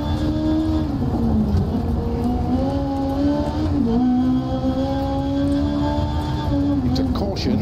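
A rally car engine in the racing game Dirt Rally 2.0 drones steadily throughout, its pitch dipping under hard braking into a hairpin and climbing again, with a voice talking over the continuous engine tone.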